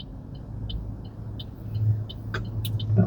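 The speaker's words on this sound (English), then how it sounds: "lots of cars are coming." Cars pass on a road in Honolulu, heard from inside a rideshare vehicle as a steady rumble of traffic that swells as vehicles go by. Light ticks sound over it, and no one speaks.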